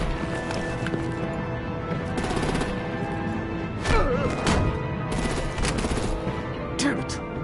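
Gunfire from the Batman: The Enemy Within video game rattles through a dense, continuous battle mix, with repeated bursts and clattering hoofbeat-like impacts layered over a busy, loud soundscape.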